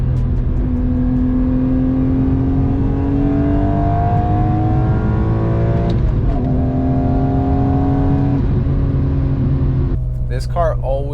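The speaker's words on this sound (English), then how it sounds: "It was the sound that Inline 6 made." A BMW E46 M3 inline-six engine revs hard and steadily, rising and falling in pitch through the gears, loud and close throughout, with a brief sharp change near the end.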